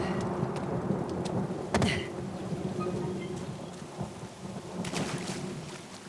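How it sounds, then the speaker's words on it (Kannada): Steady rain with a low rolling rumble of thunder in the video game Uncharted: The Lost Legacy, a sharp crack near the start and another swell toward the end, no voices. "ಓಹೋ ಮಳೆ ಬರ್ತಾನೆ ಇದೆ"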